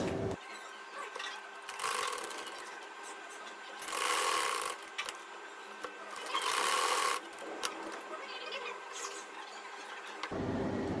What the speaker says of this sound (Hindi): हमने यहाँ पे भी सिलाई लगा ली और यहाँ पे भी